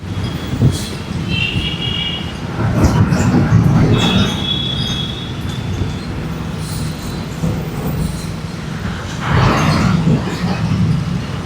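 A train moves through Thiruvananthapuram railway station with rumbling wheels, metallic squeals and clanks rising and fading over the steady din of the platform, loud and fairly close throughout.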